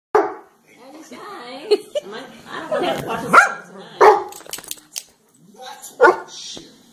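Several dogs bark, yip and whimper in loud bursts, overlapping with one another in an uneven, excited rhythm.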